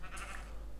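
A sheep in the video game Minecraft gives a single short bleat, faint and brief, with no talk over it.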